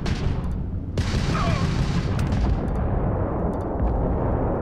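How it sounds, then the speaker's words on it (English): A ballistic cannon fires in the Starfield space game: a sharp, loud blast followed by a heavy, sustained rumble with crackling debris, continuous and close. "Oh, that's the ballistic cannon."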